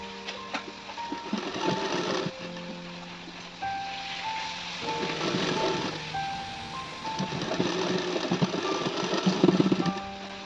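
A sewing machine stitches the lining of a net saree to the main fabric, running in steady whirring bursts with short pauses between them, close and fairly loud, with no talk.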